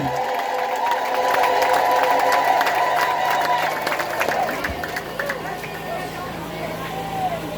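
A church congregation ululates and cheers in a continuous, fairly loud wash of high trilling voices, with clapping mixed in and a preacher's voice speaking over the crowd.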